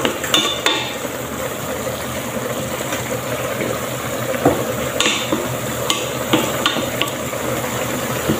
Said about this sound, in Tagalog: Lutuin natin mabuti yung ating beef para mawala yung amoy niya.